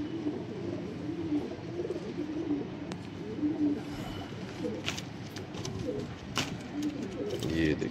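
Sialkoti pigeons, a male and a female, coo faintly in repeated low throaty calls beneath someone talking, with occasional sharp clicks and shuffles nearby.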